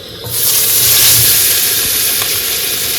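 Potatoes frying in oil left over from frying fish, cooked outdoors beside a river on a rainy day; a loud, close, steady sizzle and hiss swells up after a quiet start and keeps going.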